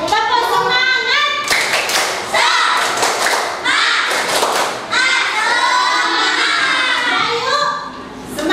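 Classroom pupils doing a rhythmic encouragement clap routine, bursts of patterned clapping and thumps with children's voices chanting along, loud and close.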